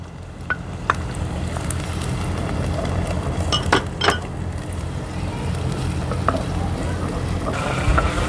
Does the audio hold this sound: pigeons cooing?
no